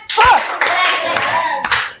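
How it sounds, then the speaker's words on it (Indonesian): A group claps in a quick rhythmic pattern up close, with a short cheer mixed in. "beri dia tepuk keren"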